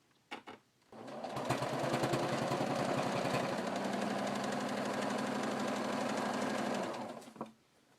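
A sewing machine runs a straight stitch in an X across the pocket of a pair of work pants, a close, steady, rapid needle clatter lasting about six seconds, with a few short clicks before it starts.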